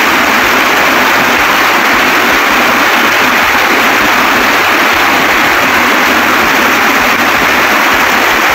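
Steady rushing of a slightly muddy village stream in Gulmi, Nepal, a dense unbroken wash of noise that holds constant throughout, with no voices.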